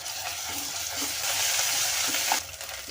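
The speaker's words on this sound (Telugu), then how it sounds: "అల్లం వెల్లుల్లిపాయ పేస్ట్ పసుపు వేసి అల్లం వెల్లుల్లిపాయ పేస్ట్ పచ్చివాసన పోయే వరకు ఫ్రై చేయాలండి" Ginger garlic paste and turmeric fry in oil in a pressure cooker, a loud, continuous close sizzle with faint stirring scrapes throughout.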